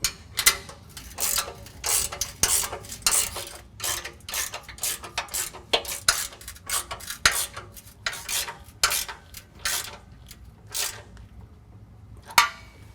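A ratchet wrench tightens bolts on the rear bumper mounts of an XOR bumper on a Jeep Wrangler JK, giving repeated quick clicking bursts in an uneven rhythm, close and fairly quiet, with short pauses between strokes.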